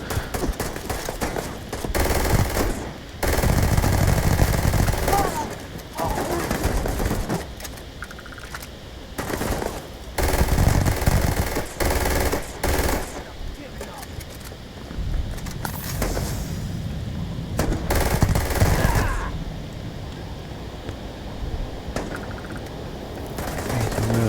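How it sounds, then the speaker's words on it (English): Mag shear weapon gunfire in Starfield: dense, rapid bursts of electronic shots that come and go over many seconds, loud and close, with a voice talking at moments among the volleys. "I do like the mag shear, it's such a fun weapon"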